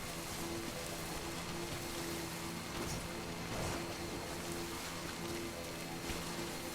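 Steady rain in the video game Death Stranding, a dense continuous hiss of drops on surfaces with a faint low hum beneath, even and unbroken throughout.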